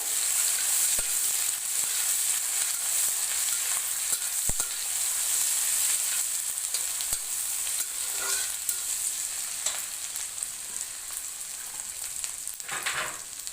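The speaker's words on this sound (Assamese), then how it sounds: "অলপমান আদা নহৰুৰ পেষ্ট দিছোঁ। এইখিনি অলপ সময় ভাজিম কেঁচা গন্ধটো যোৱালৈকে।" Ginger-garlic paste sizzles steadily in hot oil with a constant crackling hiss, broken by occasional scrapes of a spoon.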